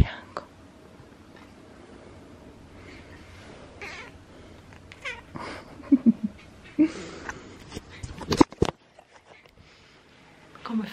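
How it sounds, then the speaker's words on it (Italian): A white kitten meows in several short, close calls in the latter half, a loud cluster near the end, over quiet room noise with faint speech. "Come faccio io con questo gattino tutto bianco?"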